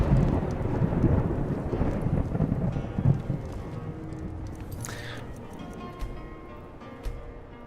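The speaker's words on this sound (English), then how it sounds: "We're gonna turn down the interior rain and lightning." Heavy rain and rolling thunder from a Skyrim thunderstorm, a loud dense wash in the first seconds that thins and fades, with a brief crackling burst near the middle and soft knocks later.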